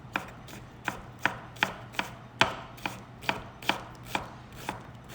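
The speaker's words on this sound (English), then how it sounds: "And then we want to cut down the onion." A knife chops down through an onion on a cutting board in a professional cooking demo: about a dozen crisp, evenly paced thuds, close and fairly quiet, with no talking.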